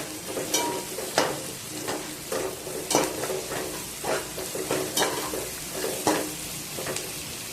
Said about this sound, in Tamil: 4 க்ரீன் சில்லிஸ் ஆட் பண்ணியிருக்கேன்